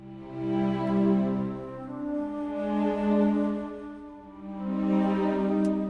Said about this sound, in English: So they're actually like pre-recorded swells.